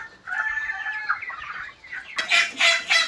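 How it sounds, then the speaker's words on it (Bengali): Broiler chickens on a large poultry farm in Nagaon, Assam, cluck and call steadily and close by, then break into louder, harsher bursts of crowing and squawking toward the end. "এতিয়া দুটা মাইকী মুৰ্গী আৰু এইফালে আপোনাৰ মতা মুৰ্গী ওলাম"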